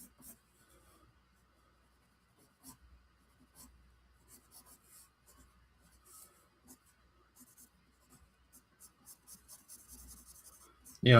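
Pencil sketching lightly on paper during an evening drawing session, a soft, quiet scratching and rubbing that comes in short strokes and pauses, with faint clicks and a louder bump at the very end.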